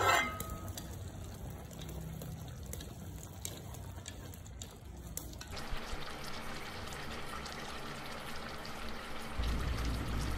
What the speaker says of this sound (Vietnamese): mình cho thêm vào nồi canh một bát nước và đậy vung đun tiếp khoảng 20 phút nữa